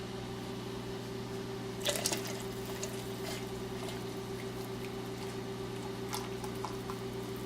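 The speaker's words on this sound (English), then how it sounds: "So we're gonna have to reboil the kettle" A kettle reboiling water gives off a steady low rumbling hiss that runs the whole time, with a brief rattling clatter just before two seconds and another faint one near six seconds.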